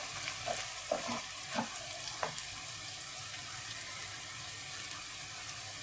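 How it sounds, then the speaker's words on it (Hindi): Green chillies fry in hot oil under a steady close sizzle, with a few sharp stirring knocks against the pan early on before the hiss carries on alone. "हरी मिर्च को भी डाल के आप थोड़ा सा हिला लें ताकि ये इसमें की खुशबू आ जाए।"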